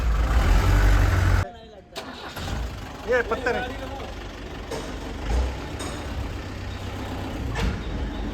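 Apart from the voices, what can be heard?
Tata 407 tempo truck engine running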